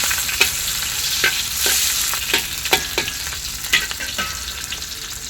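Green chillies and capsicum pieces sizzle in hot oil in a pan for chicken fried rice, a constant close frying hiss broken by sharp scraping stirs of a spatula.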